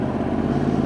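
Yamaha R1 sport motorcycle being ridden with a tuned fuel map, giving a steady, close engine drone that holds level throughout without a clear rev change.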